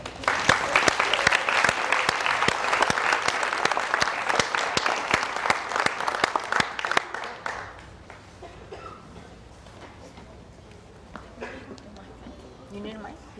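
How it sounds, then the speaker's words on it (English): A forum audience applauds the panelists, dense sustained clapping for about seven seconds that then dies away into room noise and voices. "so let's give them a round of applause."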